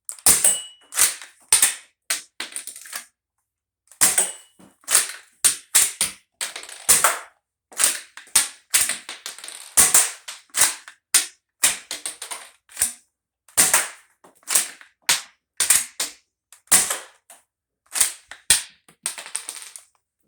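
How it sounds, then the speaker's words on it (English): A Colonel Wasp Firefly toy blaster fires again and again: sharp, loud, close clicking snaps, some single and some in quick clusters, separated by short silences. "He's going to start off with the Firefly, and then he's going to move to the xm1014."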